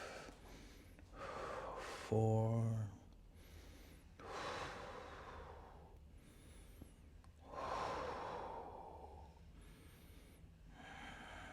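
Steady conscious breathing during a yoga reverse triangle pose in an Ashtanga-inspired flow, with several audible breaths in a slow, even rhythm, close and moderately loud, plus one sharper gasp-like inhale.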